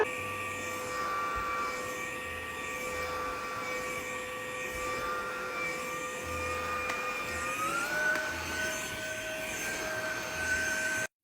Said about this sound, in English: It's a cordless viral TikTok vacuum